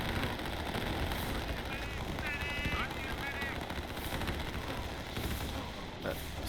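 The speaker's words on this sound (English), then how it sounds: "And I hear some tanks too." Tank fire in a StarCraft video game battle, dense distant gunfire and booms rolling continuously under a busy battle soundscape with faint chirping unit effects.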